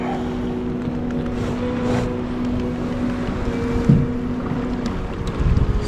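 A small outboard motor on a fishing kayak runs out at sea, a steady low droning hum with wind buffeting the microphone, continuing for most of the stretch before easing off near the end.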